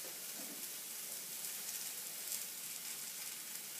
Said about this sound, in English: You just want them to keep sizzling away excitedly.